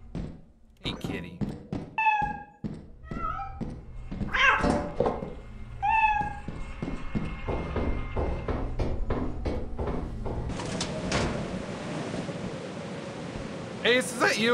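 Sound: cat meowing in video game Lethal Company

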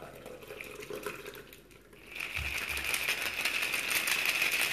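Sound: pouring a shaken drink mixture

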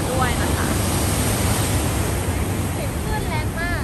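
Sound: ocean waves crashing near the Golden Gate Bridge

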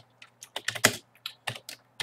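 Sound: typing on a computer keyboard

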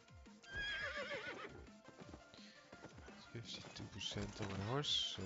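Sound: horse neighing and hooves in a video game

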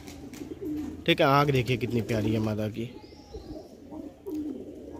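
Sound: Kaldumi pigeons cooing

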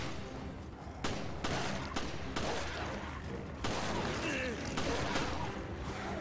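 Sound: gunfire in the video game Resident Evil Revelations

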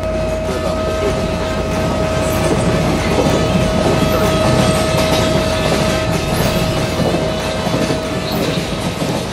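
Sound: train moving along the tracks

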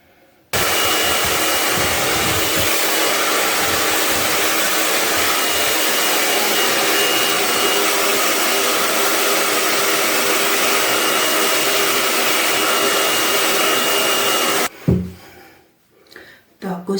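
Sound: hair dryer drying hair

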